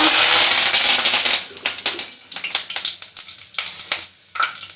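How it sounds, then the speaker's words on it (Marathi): Whole spices, mustard seeds and curry leaves hitting hot oil in a pan: a loud initial sizzle that settles into rapid, uneven crackles and pops, close up with no talking. "तेल गरम झालंय आपण हे खडे मसाले घालूया"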